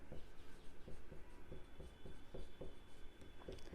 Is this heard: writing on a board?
yes